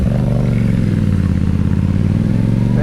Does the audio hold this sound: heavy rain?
no